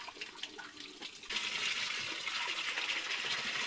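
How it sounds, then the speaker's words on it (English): Water pours from a hose fed only by gravity in an off-grid desert laundry setup, a soft trickle that swells into a steady splashing rush partway through, close and continuous with no talking. "I don't have enough flow to keep the hose open."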